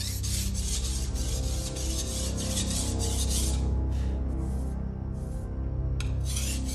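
A Viking-style steel sword being hand polished after tempering, a close, steady rasping scrape in quick repeated strokes with brief pauses near the end and no talk.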